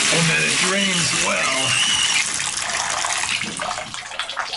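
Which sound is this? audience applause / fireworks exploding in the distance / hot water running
hot water running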